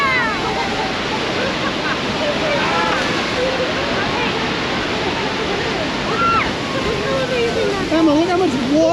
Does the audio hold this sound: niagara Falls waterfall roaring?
yes